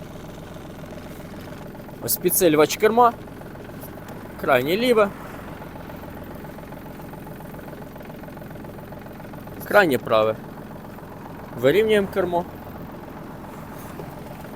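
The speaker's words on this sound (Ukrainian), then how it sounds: "Заводиться трактор легко." A small engine of a Yanmar RS-24 Japanese mini tractor idles steadily at low volume through the whole stretch, while someone talks in a few short bursts over it.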